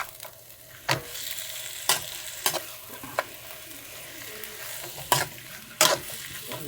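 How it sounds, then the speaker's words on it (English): Sliced tomatoes, 400 grams, sizzle in a pot of pressure cooker chicken biryani, a steady frying hiss broken by several sharp stirring scrapes and clatters of the spoon against the pot. "we have 400 grams of sliced tomatoes."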